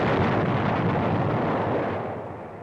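A TNT charge blasting wrecked Japanese-held pillboxes during the invasion of the Marshall Islands, a heavy booming roar that rumbles on and slowly fades over a couple of seconds.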